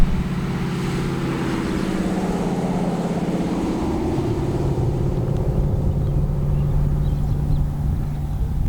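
Classic Ford Bronco with a swapped-in Coyote V8 driving, its engine droning steadily and loud from inside the cab, a deep even rumble that builds slightly in pitch as it pulls.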